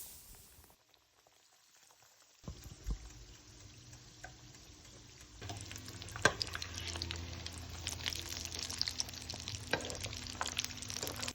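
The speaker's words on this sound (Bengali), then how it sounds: "মিডিয়াম আঁচে ভালো করে ভেজে নেব।" Mutton cutlets fry in a pan on medium heat, a soft steady sizzle that starts quietly, then grows busier and louder partway through with crackling pops, no voices.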